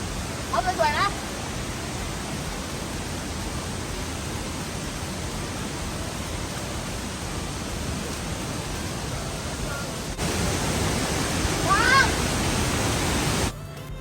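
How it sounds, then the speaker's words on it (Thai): Wa Mae Kee waterfall in the forest pours with a steady, rushing roar that grows louder toward the end, with a couple of brief bird chirps above the water. "ก็มาถึงน้ำตกวาแมะคีจุดหมายแรกของทริป"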